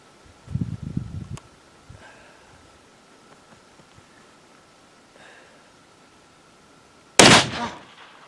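A single loud, close gunshot from a Marlin 45-70 Guide Gun lever-action rifle cracks out near the end, preceded by faint handling noise and quiet outdoor ambience.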